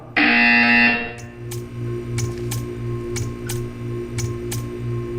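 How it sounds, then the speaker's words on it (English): A loud buzzer tone from a test chamber in the video game Portal 2 sounds for about a second at the start, then gives way to a low steady hum with faint repeated ticks. "You will hear a buzzer. When you hear the buzzer, stare at the art."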